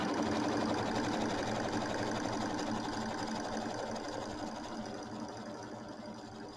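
An embroidery machine stitches a quilt placement line with a steady, fast, close mechanical whir that tapers slightly toward the end, with no voices.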